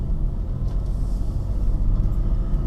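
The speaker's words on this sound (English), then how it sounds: "All right, so we're about to take this 530 for a drive." A 2004 BMW 530i pulls away, its engine and road noise a steady low rumble from inside the cabin, continuous and fairly loud with no voices.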